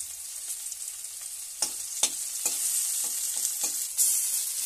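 Chopped garlic frying in a pan while a vegetable curry with yardlong beans, lentil dumplings and potato cooks, a steady crackling sizzle with a few sharp stirring clinks, close and fairly quiet, no voices.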